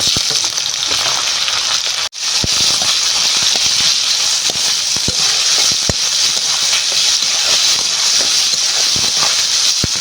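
Dried chillies, bay leaves and chopped onion sizzle in hot oil over a village-style wood fire, a loud, steady hiss of frying with scattered pops and crackles throughout.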